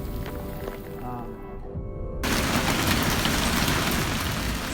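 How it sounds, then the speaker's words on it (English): Golf-ball-size white hailstones pound a road in a violent storm, a dense, loud, nonstop crashing roar that suddenly intensifies partway through and then holds steady. "Large white hailstones kept pounding the road, creating non-stop crashing sounds."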